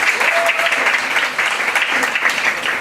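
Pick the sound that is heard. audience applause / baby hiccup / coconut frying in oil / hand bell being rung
audience applause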